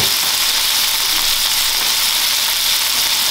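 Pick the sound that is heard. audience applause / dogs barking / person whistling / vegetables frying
vegetables frying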